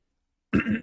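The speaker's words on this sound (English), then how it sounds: "Let me continue coughing." A single throat-clearing cough bursts out after a half second of silence, close and fairly loud, with a short rough follow-on before the clip ends.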